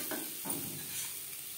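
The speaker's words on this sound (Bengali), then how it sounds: "সবার প্রথমে আমি লবণ ও হলুদ দিয়ে আলু ভেজে নেব।" Potatoes seasoned with salt and turmeric fry in oil in a kadai, giving a soft, close sizzle broken by a few brief stirring scrapes over a short, quiet stretch.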